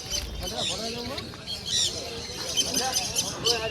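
Budgerigars and other small cage birds chirp and twitter continuously at a busy pet bird market, a dense chatter of high tweets mixed with someone talking over them.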